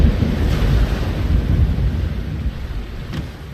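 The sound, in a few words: storm wind in The Longest Journey video game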